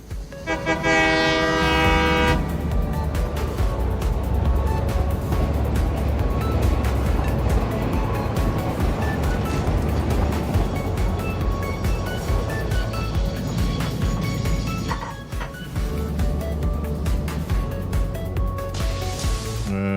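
A video game sulfur train rumbles steadily along with a continuous mechanical drone, a horn-like tone sounding near the start, loud and without speech.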